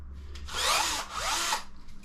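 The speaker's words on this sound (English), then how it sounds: "I've just been doing some drilling" A power drill in a garage, driven with 8mm bits, revs up twice in two sustained whining bursts with a short pause between, close and loud over a low background hum.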